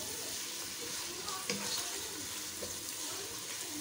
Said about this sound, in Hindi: इसको इतना इन मसालों के साथ भूने कि इसका जो है हमारे मीट का जो है कलर चेंज हो जाए अच्छे तरीके से